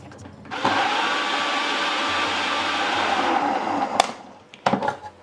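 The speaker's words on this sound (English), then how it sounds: "you're going to put the lid back on, and then you're going to blend this again until it's smooth" A blender whirs loudly and steadily as it purées strawberry jam mousse until smooth, running for about three and a half seconds before stopping, followed by a few clattering knocks.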